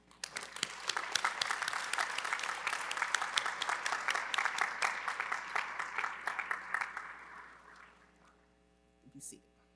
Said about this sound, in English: Please rise and applaud them.